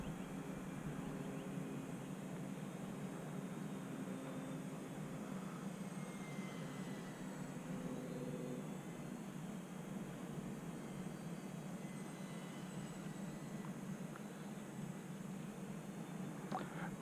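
An E-flite UMX Air Tractor, a small electric RC crop-duster model, flying outdoors on a breezy day, giving a faint, steady motor whine over wind noise for the whole stretch.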